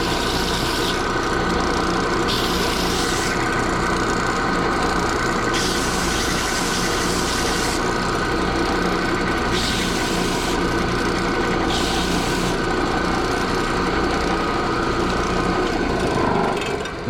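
Steady, continuous sanding of a wooden pneumatic from a Gulbransen player piano under restoration, a close, even rasping scrape with slight rhythmic strokes and no talking.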